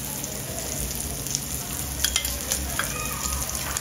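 Ghee added to a masala for a homemade surmai ghee roast, stirred in a pan with a steady close sizzle and soft scraping clicks of the spoon.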